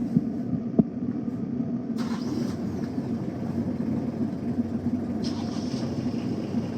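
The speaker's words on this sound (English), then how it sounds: "Okay, I'm just going to fire up the engines here." Engines on a 2015 Nautitech 40 Open catamaran starting up and settling into a steady low idle, with a sharp knock early on, a hissing burst, and a close rumble running throughout.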